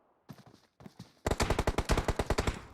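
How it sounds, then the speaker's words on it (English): Automatic gunfire in a PUBG esports match on the Sandhawk map: a few scattered shots, then a loud, sustained rapid-fire burst of cracking reports close by. "So much gunfire right now."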